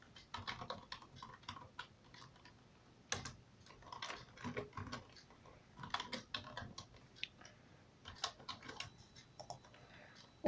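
Typing on a computer keyboard to enter a Skype username, with irregular bursts of close, clicky keystrokes and brief pauses between them.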